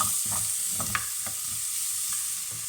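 Onions fry gently in a pan, softening toward transparency with a steady hiss and sizzle, while a spoon scrapes and stirs them in short, light strokes.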